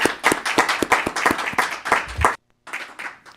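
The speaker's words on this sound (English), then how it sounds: "So I want to give you a nice round of applause." A few people at a city council meeting clap by hand, the individual claps loud and close, then the clapping stops abruptly and resumes briefly after a short silence.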